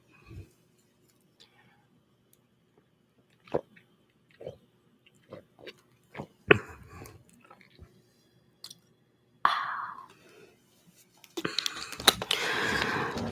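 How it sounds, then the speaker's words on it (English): Drinking water near a sensitive microphone: sparse, soft mouth clicks and wet swallowing gulps separated by quiet pauses, followed by a breathy, rustling stretch near the end. "I do want to see what it sounds like and if my mic picks up a gulp"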